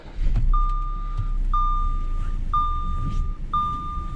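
An Audi being driven after a steering repair, its engine idling low and steady while a high electronic chime beeps four times at even one-second intervals.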